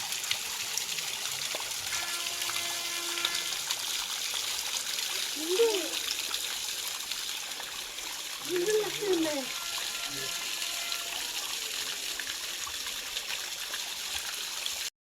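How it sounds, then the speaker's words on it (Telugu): A small waterfall stream near Srisailam pours and splashes steadily, a constant close hiss of falling water that stays even throughout, with two brief voices talking under it. "వాటర్ సౌండ్ వింటుంటేనే చాలా బాగుంది కదా"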